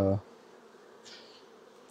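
Honey bees fill a hive super with a soft, continuous buzzing drone, steady and close, after a loud tonal burst at the start.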